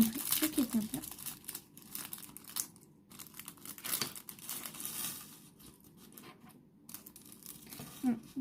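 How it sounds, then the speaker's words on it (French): A small packet is torn open and crinkled up close, with dense bursts of plastic rustling and crackling that come and go across several seconds, along with brief handling noises. "Un petit sachet d'après, je vais l'ouvrir"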